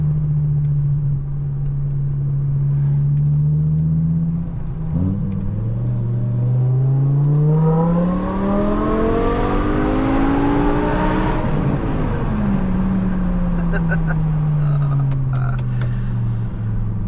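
A BMW E60 M5's powerful V10 engine revs up from a low idle to a loud, rising howl, then winds back down to a deep rumble.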